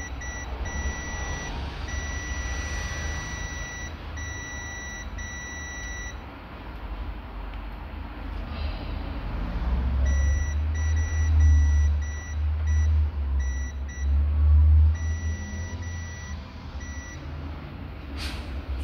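A multimeter continuity tester sounds repeated steady high beeps in on-off bursts during a desktop PC repair, close, with low rumbling handling noise underneath.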